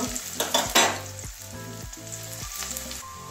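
Onion and green chili fry in a pan, giving a steady close sizzle with a few louder stirring bursts near the start, over faint background music and with no talking.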